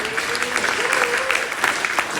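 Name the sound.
audience applause for the lawmaker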